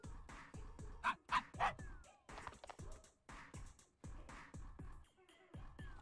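A person imitating a dog, giving a few quick bark-like yips amid cozy game music and other chatter-like sounds.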